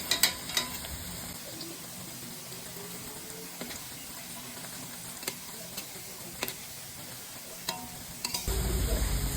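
Gram flour (besan) pieces fried in oil in a kadai and turned over on all sides, a steady close hiss with scattered light ticks and taps of the spatula, a louder rush at the very end.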